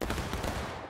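A reenactment company fires a musket volley on command, a single loud, dense burst of overlapping gunshots that cuts off almost at once.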